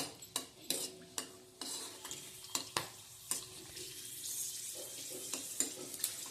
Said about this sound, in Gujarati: આપણે આ ટીંડોરાની કાચરી બનાવી એ તળીએ છે